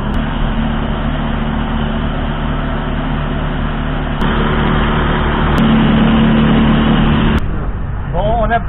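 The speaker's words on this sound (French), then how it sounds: "on a privatisé le taxi, on a pris le plus petit qu'on a trouvé" Inside a small taxi driving on island roads in the British Virgin Islands, a steady engine and road-noise drone fills the cabin with little change from start to finish.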